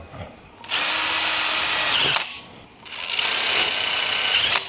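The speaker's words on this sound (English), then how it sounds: "We'll put 4 screws in because it's not gonna go anywhere with 4." A power drill drives screws into spiral ductwork in a pole barn, two loud whirring bursts of about a second and a half each, close up, with a short gap between them.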